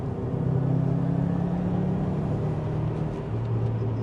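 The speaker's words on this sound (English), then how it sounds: "burbling flat 4 that you just don't get from the JDMs" A Subaru Impreza STI flat-four engine with equal-length headers burbles with a deep, uneven rumble. The note is steady and fairly loud as the car drives along roads in Wales, with no talking.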